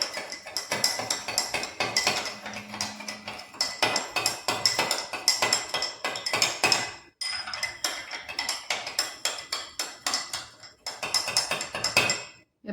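A metal spoon clinks and scrapes repeatedly against a vessel while two spoons of salt are stirred in to dissolve, a busy rhythmic rattle with short pauses, close and fairly loud with no talking.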